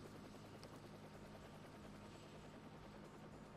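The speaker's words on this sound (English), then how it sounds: "That's a helicopter." A helicopter in the Gran Turismo Sport video game gives a steady, faint rotor whir that stays even throughout, with no talk over it.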